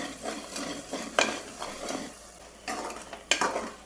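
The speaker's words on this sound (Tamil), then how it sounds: "இன்னும் கொஞ்சம் நேரம் இதையும் கிளறி விட்டு நம்ம இறக்கிடலாம்" A spoon scrapes and stirs coriander leaf thokku sweetened with jaggery in a pan, making intermittent close scraping strokes with faint sizzling between them and no voices.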